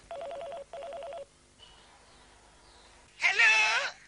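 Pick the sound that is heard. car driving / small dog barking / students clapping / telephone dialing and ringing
telephone dialing and ringing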